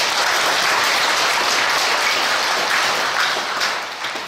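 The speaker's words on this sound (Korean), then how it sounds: "감사의 박수하겠습니다" A church congregation gives thanks with applause after its hallelujah choir sings, a loud, full roar of clapping that holds steady and then begins to thin and fade near the end.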